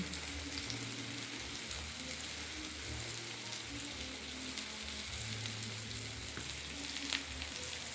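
Eggplant omelette with egg, tomato and onion frying in a pan, a dense, continuous crackling sizzle, steady and close throughout.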